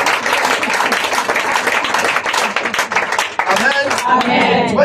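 A congregation at a prayer camp service applauds, a loud, dense spread of clapping that carries throughout while a voice speaks over it.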